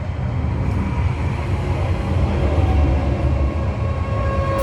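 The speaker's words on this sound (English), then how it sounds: "Oh, hang on, here's a Meadowhall tram." A Sheffield tram rumbles in loudly and close, a heavy steady low roar with faint high whines and squeals as it rolls into the stop.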